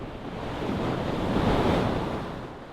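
Ocean surf breaking along a shore, a steady wash of broadband roar that swells toward the middle and eases off, with wind buffeting the microphone throughout.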